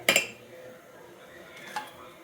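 A plate is picked up with dishes clinking: a bright clatter of metal and crockery at the very start, then a softer clink just before the end, with quiet speech in between.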